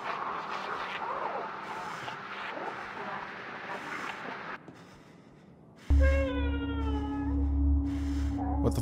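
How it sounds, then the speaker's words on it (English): A cat in the game Conarium yowls in a drawn-out, wavering caterwaul that comes in loud and close, after a stretch of murky rumbling ambience and a few softer mewing cries. "Shut up, cat."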